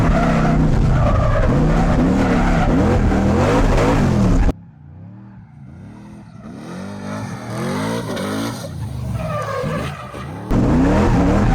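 A drift car slides through right and left turns and donuts at the Val-de-Loire circuit, its tires squealing loudly in long skids. The sound drops to a quieter, wavering stretch midway, then comes back at full volume.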